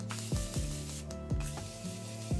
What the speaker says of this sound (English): So spray it, let it dry